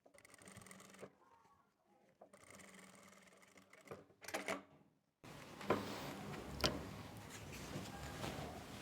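A sewing machine topstitches around a folded round collar in faint, short bursts, followed by a louder, noisier stretch of continuous mechanical sound.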